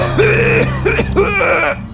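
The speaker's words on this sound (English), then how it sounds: "you coughed out a lung" A cartoon man coughs and clears his throat harshly in a few rough, voiced hacks, loud and close.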